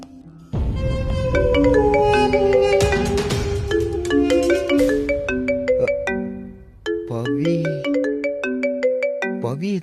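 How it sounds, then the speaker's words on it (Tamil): Melodic electronic phone ringtone plays loudly and continuously for an incoming call in a household scene from a Tamil TV serial, with a brief break before the tune resumes. "இதுக்கு நமக்கு கால் பண்றா"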